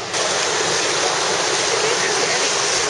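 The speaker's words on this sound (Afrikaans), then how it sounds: "dan hoor ek die golwe so teen die sloep" Waves breaking against a narrow coastal gully produce a loud, continuous roar of churning surf that fills the whole stretch without pause.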